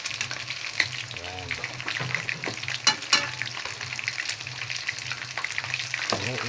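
Fried chicken sizzles in hot oil with a steady, close crackle, while occasional clinks and scrapes of stirring or lifting the pieces break through.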